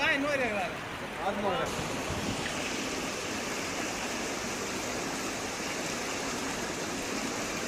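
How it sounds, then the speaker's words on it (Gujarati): Rainwater runs along roads after a heavy monsoon downpour near Khambhalia in Dwarka, a steady broadband rushing like a stream that holds constant throughout, with a brief voice at the start. "રોડ રસ્તામાં વરસાદી પાણી વહેતા થયા"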